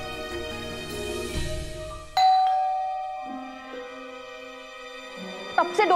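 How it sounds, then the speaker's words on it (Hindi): A two-tone ding-dong doorbell rings out at a home in a Hindi TV drama, one loud chime decaying over music, with another bright chime flourish near the end. "कब से डोरबेल बज रही है, सुनाई नहीं देता?"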